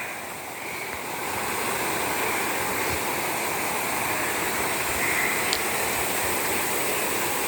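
Water pours steadily onto soil in a greenhouse, a continuous rushing splash that holds at an even level throughout, close by and alone with no talk.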